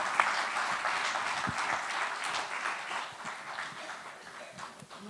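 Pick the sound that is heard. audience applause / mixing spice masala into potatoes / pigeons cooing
audience applause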